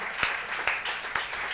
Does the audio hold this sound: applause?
yes